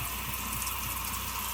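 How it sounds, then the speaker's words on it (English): Cold tap water runs steadily over cooked lasagna noodles in a sink, a constant close splashing rush with no pauses or voices. "Let the cold water run through them."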